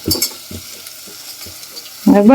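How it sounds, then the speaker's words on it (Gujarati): Onion, chili, carrot, capsicum and cabbage are stirred and fried together in a pan. Several spaced scraping taps of the spoon sound over a low sizzle, then a brief louder tonal sound comes at the very end. "બધું શાકભાજી નાખી હા હલાવી લેવાનું"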